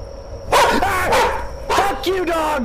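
A dog barks twice, close and loud, each a short yelping bark with a whiny tail, separated by about a second.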